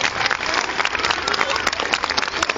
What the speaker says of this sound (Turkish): kuvvetli alkış istiyorum